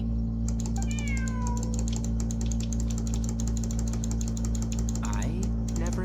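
A cat meows in the video game Genshin Impact, high-pitched and sliding, heard a couple of times over a steady music and ambient background.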